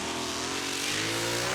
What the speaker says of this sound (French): Le moteur est pleine puissance, vous avez pu voir que les phares de cette magnifique Dodge se sont allumés.